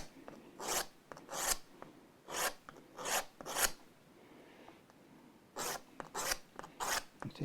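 Fret work on a Gibson Les Paul Custom refret: repeated back-and-forth rasping strokes of sanding or filing, close and fairly quiet, coming in short rhythmic bursts with brief pauses between.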